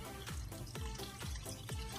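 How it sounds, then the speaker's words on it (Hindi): Water poured into a pot of cooking chana dal gosht, a soft liquid splashing with a few repeated gurgling pulses, faint and close, alone without talk. "अब इसमें मैं पानी ऐड कर दूंगी।"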